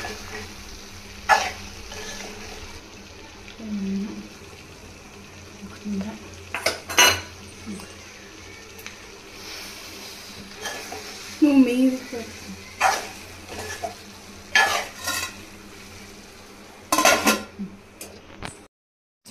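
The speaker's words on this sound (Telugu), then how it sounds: "మంచిగా కలిపేసి ఇది మొత్తం ఫ్రై అవ్వాలండి." Chicken pieces fry in a pan for biryani as a metal spoon scrapes and clinks against the pan in scattered bursts. A voice talks over the cooking.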